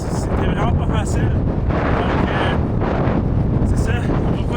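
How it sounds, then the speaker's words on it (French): Strong, steady wind at a cold, snowy mountain summit around minus twenty, roaring continuously as broadband rushing noise buffeting the microphone, with people talking through it. "Il fait super froid, il y a beaucoup de vent."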